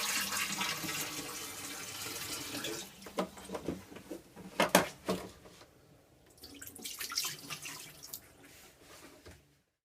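A boat's grey water tank pump sucks in air once the tank is empty, giving irregular gurgling, sputtering bursts of water and air that come and go over a steady wash, fairly faint, then cut off.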